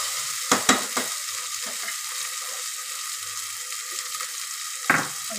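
Vegetables for a vegetable biryani fry in a pressure cooker with a soft, continuous sizzle, broken by a few sharp clinks and scrapes of a spoon stirring the pan.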